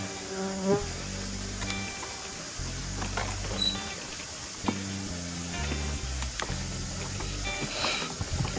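Agitated Australian native stingless bees from a hive being split buzz around close by, with wavering wing hums rising and falling among intermittent handling clicks and knocks.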